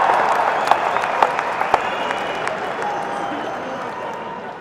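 Audience applause at a political rally speech, a steady wash of many hands clapping with a few sharper claps standing out early, moderately loud and gradually easing, with crowd noise underneath.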